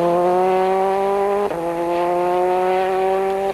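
A Ford Focus WRC rally car racing flat out on a special stage, a loud, close engine howl held at high revs with a brief gear-change break midway, then pulling hard again.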